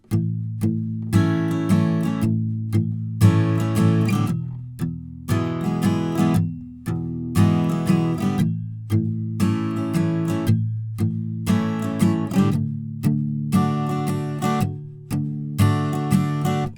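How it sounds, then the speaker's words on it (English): Palm-muted acoustic guitar strumming plays the verse chords of a song, a steady rhythm of short, choppy chord bursts, near and clear with no voice. "the first line of chords for the verse would sound like this with the palm muting"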